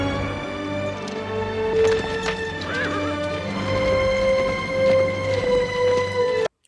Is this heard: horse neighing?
yes